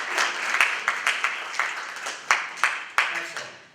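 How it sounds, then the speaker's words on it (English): Applause from an audience honoring leadership students at a speaking event, with distinct sharp clap peaks rising in a loose rhythm over a softer bed of clapping, fairly close. "Let's give them a round of applause."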